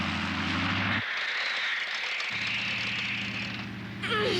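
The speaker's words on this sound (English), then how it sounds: "And here comes the airplane." A propeller airplane in a classic 1983 Inspector Gadget cartoon drones loudly and steadily, its engine hum briefly dropping out and then returning, with a whooshing cartoon effect near the end.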